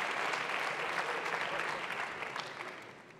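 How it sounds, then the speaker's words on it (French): Dense, steady audience applause fills a TEDx event hall, many hands clapping loudly and evenly before tapering slightly toward the end. "Un tonnerre d'applaudissements."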